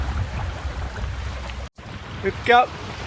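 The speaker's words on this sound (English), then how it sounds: "I'm going downwind to Cairns with just the same rig as I had before, which was just my mainsail, fully reefed." Sailboat running downwind toward Cairns under a fully reefed mainsail in about 15 knots of wind, with steady wind and water rushing loudly past the microphone and a brief dropout before a short creak.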